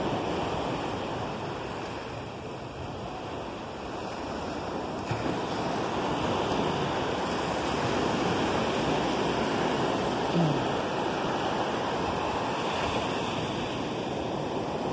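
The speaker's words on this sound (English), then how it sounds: "Feels like the wind's picking up." Wind and ocean waves at St. Augustine Beach make a steady, loud roar of surf with constant wind buffeting the microphone, unbroken from start to finish.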